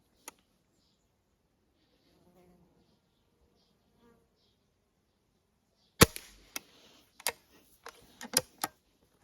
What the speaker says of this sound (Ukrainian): Відстріляв 7 кульок